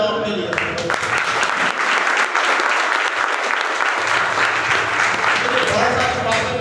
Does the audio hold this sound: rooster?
no